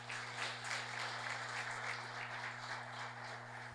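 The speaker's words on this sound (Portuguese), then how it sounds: "Aplaude ao Senhor Jesus." Steady applause from a church congregation, a dense wash of clapping that holds evenly throughout, with a low electrical hum running underneath.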